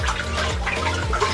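Water rushes and splashes over aquarium substrate from a 125 gallon tank as it is briefly rinsed, a close, steady wash of running water with a few gurgles.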